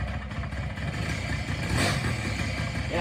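A Honda PA50ii moped engine running just after a restart, a steady, fairly quiet putter and clatter that holds at an even level, with no talking.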